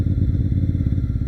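A motorcycle is heard up close, its engine throbbing in a rapid, even pulsing rhythm that holds loud and steady through the short stretch.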